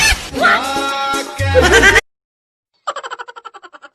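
After a burst of loud voices and a moment of silence, a goat bleats in a quick, wavering series of short pulses, close and clear.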